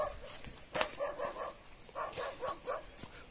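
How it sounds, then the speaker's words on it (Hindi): A village dog near a waterfall barks and yips in several short, moderately distant bursts over faint outdoor background noise. "वो नीचे जाके भौंक रहा हो।"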